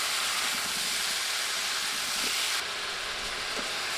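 Cauliflower fries in a hot pan with a little salt, giving a loud, continuous broadband sizzle and hiss that holds steady, dropping slightly in brightness partway through, with faint scraping stirs.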